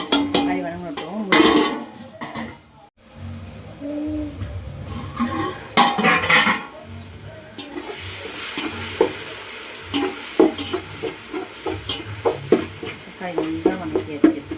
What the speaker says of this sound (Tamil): தக்காளி நல்லா வணக்கியாச்சு.